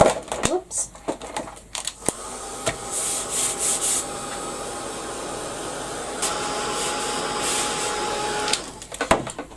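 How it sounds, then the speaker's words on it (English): A heat gun blows hot air over a Canvas Corp Brand craft journal, a steady whirring roar lasting about six seconds, framed by handling clicks and taps before and after. "what I'm going to do is give that a quick blast with the heat gun"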